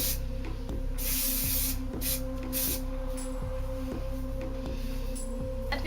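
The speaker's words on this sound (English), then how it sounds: "I'm using the Fudge Iced Raspberry and Vanilla hairspray just because it's the first to pick up." Fudge Iced Raspberry and Vanilla hairspray misted onto hair in short hissing bursts, spaced irregularly over a steady low background hum, close and fairly loud.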